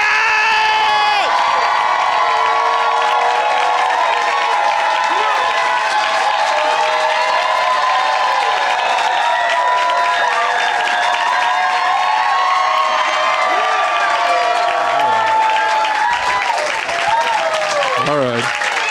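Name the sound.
audience clapping and cheering for comedian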